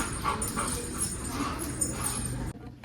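A dog whimpers and whines in short high yips against a noisy background at a dog park on Necklace Road, stopping abruptly near the end.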